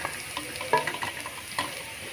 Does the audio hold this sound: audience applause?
no